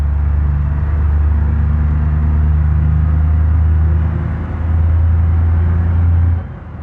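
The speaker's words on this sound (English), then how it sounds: "Truck's a little eager to downshift and get beans going here." A truck engine downshifts in the BeamNG driving game: a loud, steady low drone that sags briefly near the end of the stretch, then climbs back to its earlier pitch before easing off.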